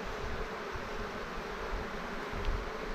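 Honey bees buzz in a dense, steady drone during a beehive inspection, heard up close for several seconds with no talking.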